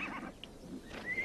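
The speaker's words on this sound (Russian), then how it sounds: "Это армейские лошади, они принадлежат нам." A horse whinnies briefly, a high wavering call rising near the end, heard clearly but not very loud.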